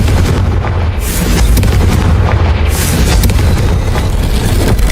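A Confringo fire spell exploding in the Hogwarts Legacy video game: a loud, rumbling blast with dense low booms and rushing noise, sustained throughout with no break.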